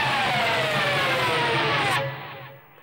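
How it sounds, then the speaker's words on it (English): A guitar pick's side is rubbed along the bottom strings of an electric guitar in a solo break, a single loud noisy scratch sweeping for about two seconds before fading out. "I'm just going to take the side of my pick,"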